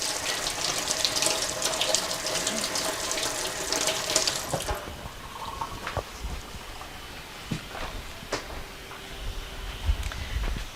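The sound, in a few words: rinsing hands under running tap water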